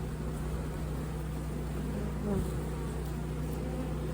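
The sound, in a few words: honeybees buzzing in an opened hive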